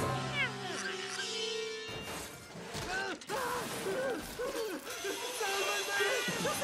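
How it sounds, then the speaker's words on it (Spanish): A cartoon cat meows several times in a run of rising and falling yowls, mixed with mechanical clicks and creaks, while voices speak around it. "Lindo gatito, dime qué escondes detrás de esos bigotes."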